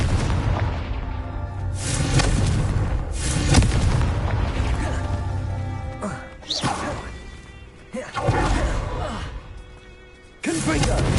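Confringo blasting spell explosions in Hogwarts Legacy: a string of loud, booming fiery blasts, roughly six bursts spread across the stretch, with brief lulls between and voices mixed in.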